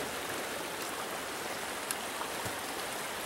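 Used dish water with an SOS scouring pad in it splashes and sloshes out of a pail, a steady wet wash of water with a few brief spatters and no talking.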